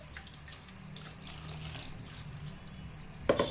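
A little water poured into a kitchen mixer jar, a steady gentle trickling stream with faint splashing, ending in a brief clatter.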